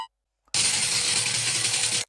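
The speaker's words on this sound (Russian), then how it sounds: "Это звук наливающейся воды в стиральной машинке." Water rushes in a steady, loud hiss as a washing machine fills, starting suddenly and stopping abruptly after about a second and a half.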